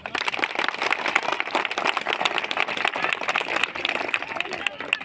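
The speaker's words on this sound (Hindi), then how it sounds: "मैडम के लिए तालियां बजाएं मैडम।" Schoolchildren in an Indian classroom clap for a female teacher, a brisk, sustained patter of many small hands close by with voices mixed into the din.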